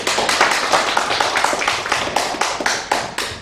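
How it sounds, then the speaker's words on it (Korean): A small group claps at a Korean residents' meeting on the Dobong urban regeneration project, with distinct, fairly loud hand claps in an uneven rhythm over about three seconds. "일단 박수 좀 부탁드립니다."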